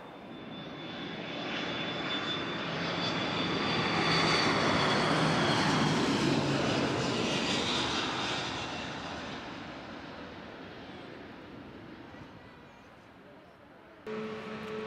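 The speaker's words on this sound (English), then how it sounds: "You can watch the planes, you can hear them take off" A jet airplane taking off at Manchester Airport roars past, rising to a loud, broad rumble mid-way and then slowly fading into the distance.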